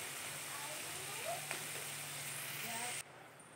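Onions frying in a pan give off a soft, even sizzle that holds steady, then drops away abruptly near the end.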